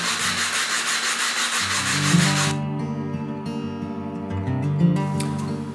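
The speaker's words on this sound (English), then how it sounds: "fine tune this 15-foot radius by simply holding it and sanding it down" Rhythmic hand sanding of a wooden guitar back brace to a 15-foot radius, rough rubbing strokes at first, then a lighter, steadier scraping, close and continuous with no voices.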